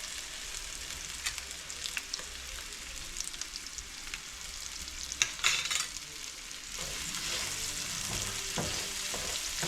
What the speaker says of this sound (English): Saute the onion with the salt first.